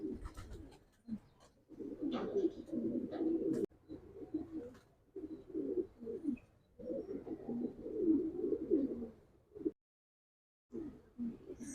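A blue bar racing pigeon, a third-place federation bird, coos in soft, low, throaty phrases that repeat in bursts with short pauses, close and quiet, with faint voices in the background.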